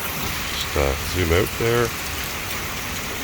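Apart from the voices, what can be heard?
hail falling on pavement and grass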